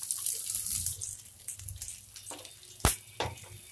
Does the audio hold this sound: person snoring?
no